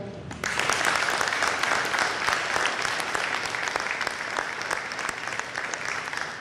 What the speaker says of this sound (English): I want to hear a big round of applause for all of the kids that just got this award